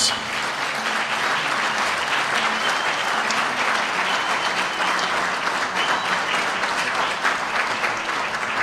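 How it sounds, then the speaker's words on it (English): Sustained applause from an audience at a Saulos Klaus Chilima Foundation event in Malawi, steady and dense clapping throughout with a full crowd, no speech over it. "please give her a round of applause"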